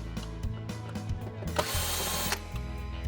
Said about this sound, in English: There are also 4 screws on the motor controller which will have to be undone.